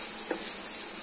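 Tomatoes frying in a pan, a steady bright sizzle with a soft stir or clink partway through.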